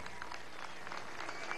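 A crowd at a Venezuelan political rally in Delta Amacuro applauds the Bolivarian National Armed Forces, a steady, even wash of clapping heard from a distance and rather faint, with no voices over it.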